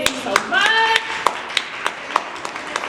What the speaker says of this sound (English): I want to give a round of applause for everybody coming out today